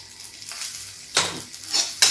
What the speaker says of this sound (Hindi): अभी प्याज भूनेंगे